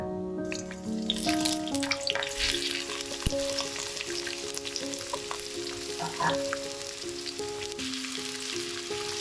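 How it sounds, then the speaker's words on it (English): Onions and garlic drop into hot oil and fry with a bright, crackling sizzle that stays close and steady, punctuated by a few clinks and stirring sounds; no talking. "Now that the oil looks hot, let's add our onions and garlic."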